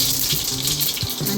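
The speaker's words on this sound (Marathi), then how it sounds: "मोहरी चांगली तडतडून द्यायची अशी" Mustard seeds crackling in hot oil for a tempering, a continuous close sizzle with quick popping rattles, loud and without talk.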